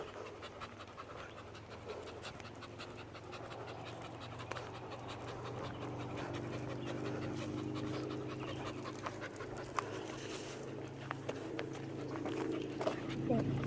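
A dog pants rapidly and steadily on a rail-trail walk at State Line Park, close and rhythmic, with footsteps, light scratching and people talking faintly around it.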